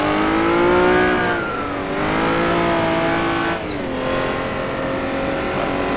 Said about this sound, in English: And they race all sorts of historic cars.